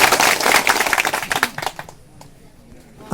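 Loud, dense applause from a crowd at a Bahujan Samaj Parishad gathering swells briefly, then quickly fades to quiet after about a second and a half.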